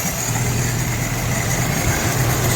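A 1984 Toyota pickup engine idles smoothly after its first start, a steady low rumble close by with no clatter or revving.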